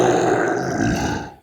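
A voice imitates a belch with one loud, close, drawn-out guttural croak lasting just over a second before trailing off into silence.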